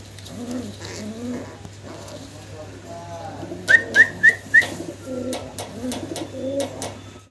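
A male pigeon in a pair gives soft throaty coos near a steady low hum, broken midway by a quick run of four sharp whistled chirps.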